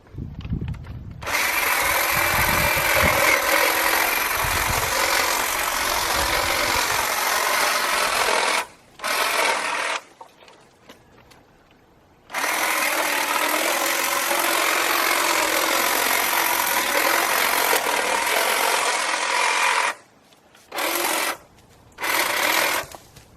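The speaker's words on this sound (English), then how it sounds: "So now I'm going to go trim up this bottle brush tree." A Black+Decker 20V cordless pole hedge trimmer cuts bottle brush tree branches outdoors, its buzzing blades running in long sustained bursts with short gaps between them.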